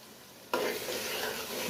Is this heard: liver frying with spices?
yes